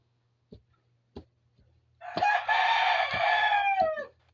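A neighbour's rooster crows one long, loud call after a few faint clucks and taps, fairly close, with a low steady hum underneath and no talking.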